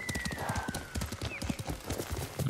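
Horse hooves clip-clop in rapid galloping rhythm in the video game Ghost of Tsushima, close and steady across the ground, with a whinny-like tone and faint game sounds above.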